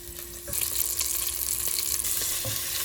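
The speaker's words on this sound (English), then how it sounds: "Just fry the fish 5 minutes per side." Hake fillets sizzle loudly in hot oil in a pan, the frying swelling suddenly and then holding a steady, dense crackle with a few soft pops, close and without any voices.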